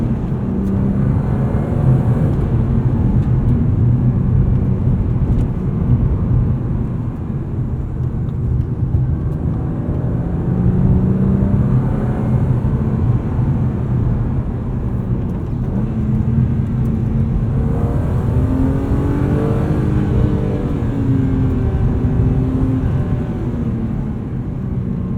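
A 1995 BMW E36 M3 Lightweight engine while driving, a loud, steady drone heard from inside the car with gentle rises and falls in revs and road noise underneath, no talking.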